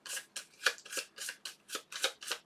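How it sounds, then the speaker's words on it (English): A deck of cards for a board game's solo bot is riffled and shuffled, about nine quick crisp bursts in a steady rhythm, close and clear with no talking. "we will shuffle the bot's deck"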